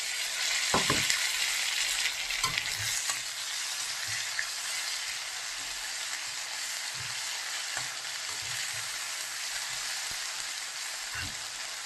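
Ginger, garlic and green chillies fry with browned onions in a pan while duck curry is cooked, a continuous crackling sizzle with occasional soft stirring knocks and no talk.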